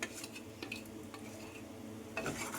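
Dried red chili powder is stirred into a nalleru (veldt grape) pickle mixture. A spoon scrapes softly and steadily against the pot, with faint clinks near the start and end, quiet and close, with no talk.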